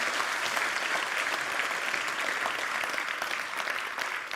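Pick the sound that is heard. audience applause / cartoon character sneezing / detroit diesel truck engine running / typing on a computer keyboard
audience applause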